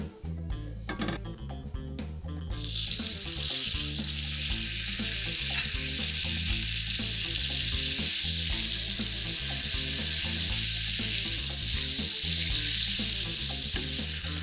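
Caramel sizzling and frying in a pan for Crêpe Suzette at a tableside service in the Ritz London, a loud steady hiss that bursts in after a few seconds of clinks and sustains evenly throughout.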